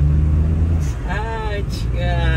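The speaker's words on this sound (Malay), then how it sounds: "Bunyi blow off dia pun manja." A turbocharged Perodua Kancil L200 with a restored engine idles loudly close by, then gives two short blow-off valve releases, each a quick rising whistle and hiss.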